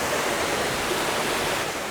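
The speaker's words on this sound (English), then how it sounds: "It's the gateway to the second waterfall." Steady, full roar of a hidden waterfall, broadband rushing water constant and close throughout with no voices over it.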